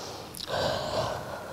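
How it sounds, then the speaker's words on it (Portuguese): A single audible exhale comes during a Chinese-style stretching class, a breathy rush of air that lasts about a second at close range. "Solta a respiração."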